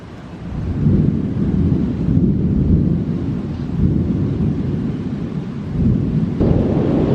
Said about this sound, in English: I don't know if you hear that thunder or have seen the lightning